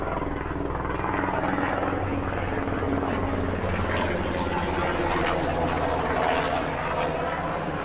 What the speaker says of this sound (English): we got a helicopter that's going to fly over.